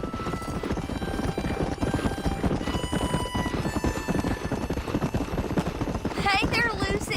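Horse hooves clip-clop steadily in Red Dead Redemption, a western video game, mixed with background music and in-game character talk throughout.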